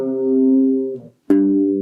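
Guitar plays the ending of a riff on its second pass: a sustained ringing note fades out, a short gap follows, then a sharply struck note rings on, clean and close.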